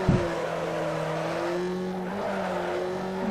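Car sliding through a drift in Need for Speed Underground 2, tires squealing over a sustained engine whine that climbs and dips, with short screech bursts at the start and end.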